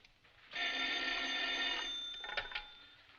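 An old telephone bell rings in one sustained, bright, metallic ring lasting about two seconds, then trails off into quiet, heard alone.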